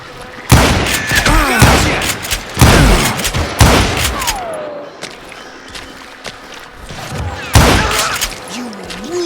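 Gunfire fills a Call of Juarez Gunslinger shootout: four loud, sharp bursts of shots crack out at irregular intervals. Between the volleys come ricochet whines and scuffs, and game voices are heard.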